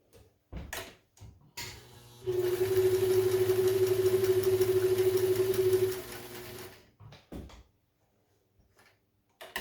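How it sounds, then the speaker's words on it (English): A vintage Kenmore 540 sewing machine stitches through two layers of pleather in one steady whirring run of about four seconds, with short clunks and handling noises before and after. "Here's 2 layers of pleather. And this is not quite as heavy, so I'm going to do a little shorter stitch length"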